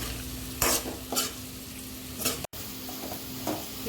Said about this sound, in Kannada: ಇದು ಚೆನ್ನಾಗಿ ಎಣ್ಣೆಯಲ್ಲಿ ಕೆಂಪಾಗೋವರೆಗೂ ಇದೇ ರೀತಿ ಕೈ ಆಡ್ತಾ ಇರಬೇಕು.